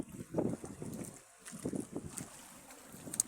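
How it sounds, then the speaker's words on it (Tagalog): Gusty wind at sea buffets the microphone outdoors aboard a fishing boat, rumbling in uneven bursts with faint splashing of choppy water in the background. "Medyo maalo na malakas yung hangin."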